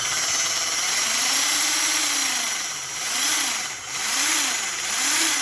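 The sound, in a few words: electric motor running on a dyno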